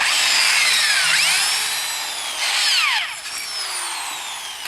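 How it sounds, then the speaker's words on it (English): A power drill whines into a metal still end cap drilling a pilot hole, its pitch sweeping down and rising again in several bursts as the bit bites and frees. "I've already marked these holes, so I'm going to drill a pilot hole."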